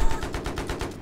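Rapid automatic gunfire in Battlefield 3 multiplayer on the Alborz Mountains map, a fast rhythmic burst of about eight close, loud shots that fills the whole second.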